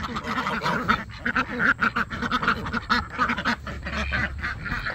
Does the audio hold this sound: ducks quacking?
yes